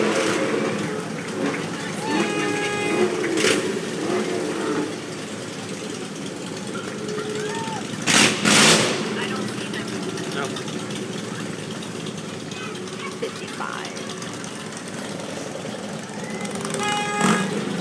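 Motorcycles ridden by ABATE members rumble past in a veterans parade, idling and revving engines steady throughout with a louder burst near the middle, as a voice announces over the crowd.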